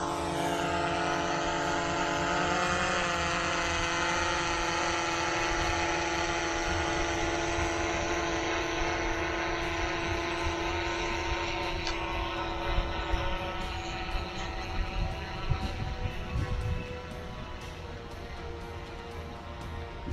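A DJI Air 3 drone climbs steadily, its propellers producing a sustained, fairly loud buzzing whine with a strong tonal hum that holds throughout, and the sound grows slightly rougher toward the end.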